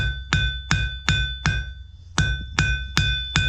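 Hot metal being hammered and tapered for a forged lantern handle, about nine sharp ringing anvil blows in a steady rhythm, loud and close, with no talk.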